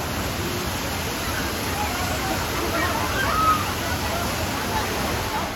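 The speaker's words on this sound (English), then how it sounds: "So we have arrived at Nagarkot waterfall." Nagarkot waterfall in Nepal roars as a steady, dense wash of falling water close by, with faint speech mixed beneath the constant rush.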